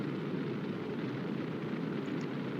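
Rocket engine burn on a spacecraft descending through the atmosphere in Kerbal Space Program, a steady broadband roaring rumble, even and continuous throughout with no talk over it.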